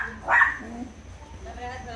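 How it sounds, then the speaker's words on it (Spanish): A dog barks once, sharp and close, when someone enters, then whimpers and yips faintly. Voices talk under and after the barking. "Como ladra la Esperancita cuando alguien entra ahí"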